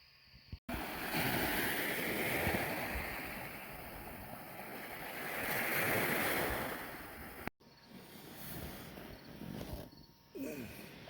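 Steady roar of ocean surf washing ashore at night beside a stealth campsite, continuous and full with slow swells in loudness, briefly cutting out twice, with faint insects and a low hum underneath.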